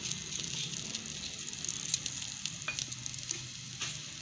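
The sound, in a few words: hot oil sizzling for tempering dal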